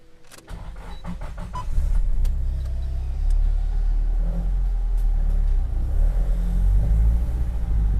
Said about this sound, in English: This is a 2000 Nissan Silvia